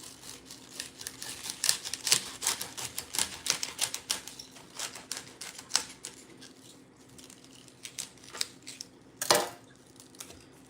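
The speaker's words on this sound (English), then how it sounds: "you have to cut the bottom of the asparagus" A knife chops through the woody bottoms of a bundle of asparagus stalks on a cutting board, giving a quick run of crisp, dry taps and clicks with one louder chop near the end and no talking.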